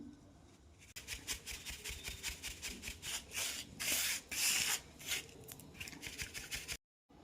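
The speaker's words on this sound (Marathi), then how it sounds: "बनवलेली पावडर चाळणीने चाळून घ्यायची आहे" Ground homemade powder for chakli being sifted through a flour sieve, heard as a close, rapid series of rhythmic scratchy rubbing strokes that continue steadily before stopping abruptly.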